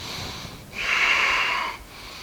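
Breathing during a yoga flow: a single long, close breath, rising into a strong airy rush for about a second before fading back to a soft hiss.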